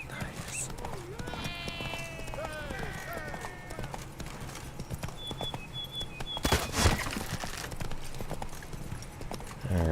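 Hooves of the horse in The Witcher 3 clip-clopping at a steady trot throughout, close and clear, with game voices, whinnies and bleats of other animals around it.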